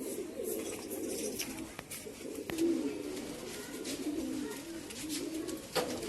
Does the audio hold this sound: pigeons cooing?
yes